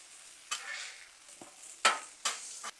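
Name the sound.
minced garlic sizzling on a Blackstone griddle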